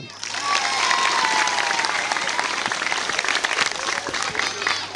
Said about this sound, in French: Applaudissez ça.